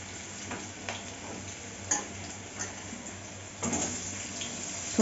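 Chunky squares of banana stem are added to frying potatoes in a pan, giving a soft, steady sizzle broken by a few louder stirring scrapes and knocks.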